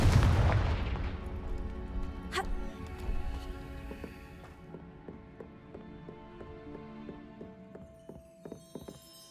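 Confringo spell blasts in the Hogwarts Legacy video game, opening with a loud, deep boom that decays into rumbling, crackling debris. Sharp impact pops and in-game clatter follow.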